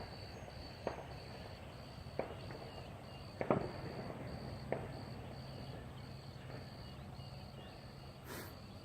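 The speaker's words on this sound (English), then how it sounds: "there's gunfire, so kind of out in the woods." Several faint, distant gunshots pop at irregular intervals in the woods over a steady outdoor hum of insects.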